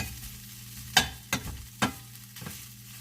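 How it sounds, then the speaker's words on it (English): Steak fajita meat cooks in oil in a pan with a soft, steady sizzle, broken by a few sharp scrapes and clacks of a utensil stirring, close and without talk. "So I'm just going to allow it to cook maybe for about 3 to 4 minutes on medium low"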